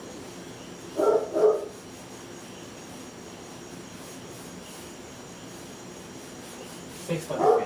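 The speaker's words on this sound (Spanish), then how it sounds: "esperemos que no les moleste el ladrido del perro porque no estoy dando explicaciones" A dog barks nearby in a house, two short barks early on and another pair at the end, with a voice speaking briefly over a quiet background.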